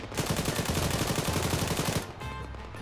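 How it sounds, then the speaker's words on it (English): Sustained automatic machine gun fire from a mounted MG in a shooting video game, a loud rapid rattle of shots for about two seconds before cutting off. "I'm getting on the MG."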